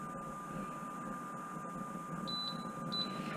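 A stove being switched on to heat a frying pan for pan bread, a few faint high electronic beeps in quick succession over a quiet room hum.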